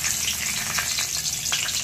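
Bay leaves dropped into hot mustard oil, where brinjal was just fried, make a continuous close sizzle with scattered crackling pops and no talk.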